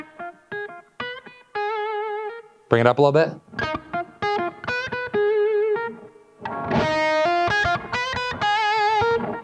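Electric guitar lick played through a cranked amp with no pedals or picks, bright distorted notes in quick bursts and bends with short gaps, loud and close, with a brief spoken remark partway through.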